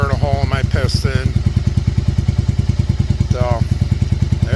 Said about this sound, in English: now it's idling like it should